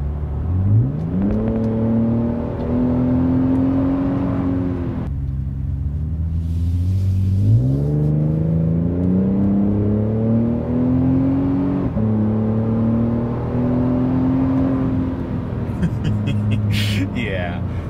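A 2022 Toyota Tundra fitted with a Carven exhaust accelerating hard, its raspy engine note climbing through several gear pulls with brief dips between shifts, loud and close throughout.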